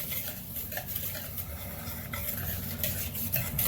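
Cornmeal, flour and sugar get mixed in a bowl, a quiet scraping and stirring with soft rhythmic strokes, close and faint, with no talking.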